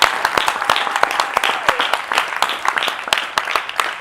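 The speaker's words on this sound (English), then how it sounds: "give him a hand clap if I like it" Audience hand clapping at a livestream gathering, steady crowd applause with sharp scattered claps running throughout, moderately loud and close.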